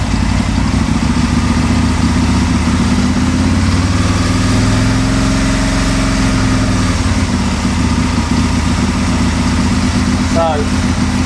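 An Aprilia motorcycle engine idles at tick-over, a loud steady low rumble with an even pulsing beat that holds close and constant throughout.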